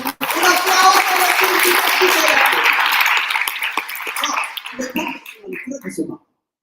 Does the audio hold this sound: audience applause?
yes